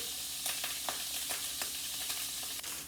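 Garlic pieces frying in a pan of oil for Indian vada pav street food, a steady close sizzle with occasional sharper pops and spatters through the whole stretch, no voices.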